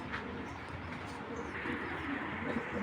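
A foreign racing pigeon coos softly and steadily up close, its low murmuring calls sitting over a constant noisy background with no speech.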